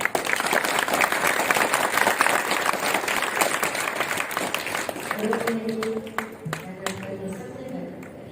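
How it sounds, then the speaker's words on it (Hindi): Audience at a Hanuman Jayanti religious gathering in a Delhi ashram claps loudly in a sustained burst of applause that thins out toward the end as voices emerge. "जोरदार तालियां बजाओ।"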